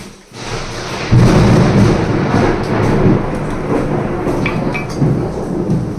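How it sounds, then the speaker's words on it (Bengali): Loud thunder rumbles through a storm, a deep rolling boom that swells after a brief quiet start and stays heavy, with the hiss of rain underneath. "প্রচণ্ড জোরে মেঘ ডাকছে প্রচণ্ড বিদ্যুৎ চমকাচ্ছে"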